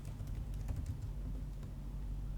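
Quick taps on a computer keyboard as a MySQL query is typed, a steady run of light clicks over a low constant hum, with no voices.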